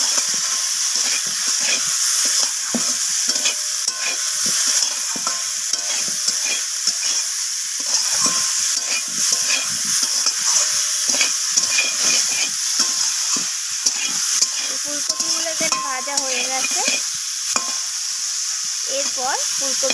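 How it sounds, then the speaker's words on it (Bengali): Cauliflower frying in mustard oil in a kadai (wok) is stirred after salting, with a steady loud sizzle and frequent utensil scrapes, plus a brief spoken moment near the end. "তো লবণটা দেওয়ার পর আমি একটু সামান্য নাড়াচাড়া করে ফুলকপিটাকে নামিয়ে নেব।"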